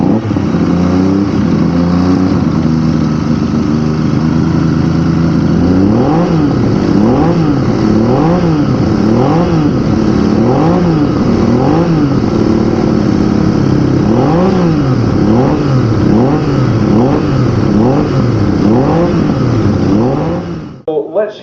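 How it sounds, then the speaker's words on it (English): A Laverda classic motorcycle engine at a bike show, running loud and close with repeated rhythmic revs rising and falling over a steady idle for about twenty seconds before cutting off. "Let's hear the Laverda fired up."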